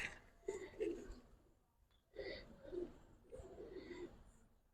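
Racer and coloring pigeons, Giribaz breed, coo in three low rolling phrases spaced a couple of seconds apart, fairly close and moderately loud, with faint background murmur.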